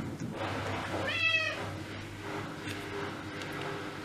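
A spoiled house cat meows once, a clear drawn-out mewing call close by, over a steady indoor background hum with no talking.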